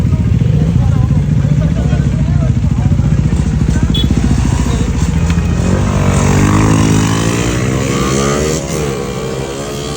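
A KTM Duke 390 motorcycle engine rumbles steadily up close, its pitch shifting as it rolls in and revs, with the roar dropping off near the end.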